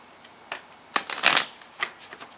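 Soul's Journey lesson cards are shuffled by hand in a few quick riffling bursts, close by and fairly quiet, with short pauses between them.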